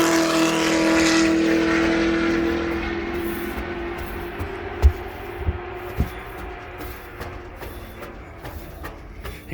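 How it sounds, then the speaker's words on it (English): A blue Honda S2000 laps Virginia International Raceway at a Mustang weekend track day, its engine a steady distant drone that slowly fades, with a few sharp knocks near the end. "He is currently on the track in a blue S2000 running around."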